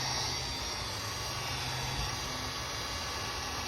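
A heat gun blows on a fresh stucco patch around an electrical panel, a loud, steady, unbroken whooshing roar held close and constant throughout.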